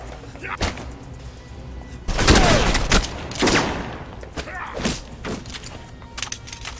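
Submachine gun fire in Alpha Protocol: scattered bursts and single shots, several loud close volleys in the middle, mixed with thuds, with someone talking over parts of it.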